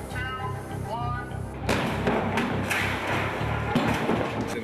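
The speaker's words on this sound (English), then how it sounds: "The shredder is going to bust through the car, and as it breaks through the car is going to cannon over" A stunt vehicle called the shredder smashes through a car on a freeway movie set, and the car flips over. A sudden, loud, broadband crash erupts midway and rumbles on, with voices before and around it.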